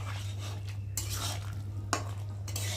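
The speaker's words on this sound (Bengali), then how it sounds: "দিয়ে দেবো একটু মিট মশলা দিয়ে একটু ভালো করে নেড়ে চেড়ে" Potato dum curry with meat masala being stirred in a pan, a spoon scraping in a few distinct strokes over a faint, low sizzle, fairly quiet and close.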